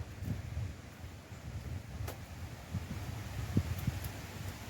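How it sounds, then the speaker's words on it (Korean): Soft outdoor wind blowing through acacia trees on a mountain trail after rain, with light rustling, gentle and fairly faint, with a few brief bumps and no voices. "아, 바람 소리."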